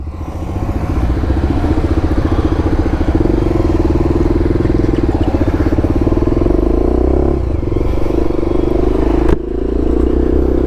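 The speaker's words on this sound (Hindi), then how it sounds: "अभी ये सारी बाइकें निकल रही हैं" A group of motorcycles idles and pulls away together on a ride, a loud, close, steady engine chug with rhythmic pulsing and a brief dip and sharp knock near the end.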